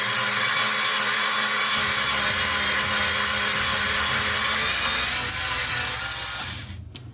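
A cheap electric screwdriver spins a brass case trimmer in a steady high-pitched whir that holds constant for several seconds, then cuts off abruptly near the end.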